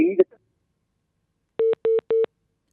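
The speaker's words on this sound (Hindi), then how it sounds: "फोन लाइन कटि जाइए" Three evenly spaced telephone tones sound after a phone line is cut off during a live television debate call, preceded by a short burst of voice.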